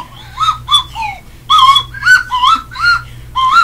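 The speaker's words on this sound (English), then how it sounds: "Welcome to freaking Papyrus on the slide whistle." Slide whistle tooting a quick run of short, bright, gliding notes, some swooping up and others dipping down, played loud and close with brief gaps between them and no voices over it.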